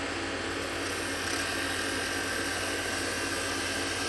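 Steady, close scraping hiss of a skew chisel shaving the outside of a spinning wood blank on a lathe while turning a snowman box, continuous for the whole stretch with no pauses.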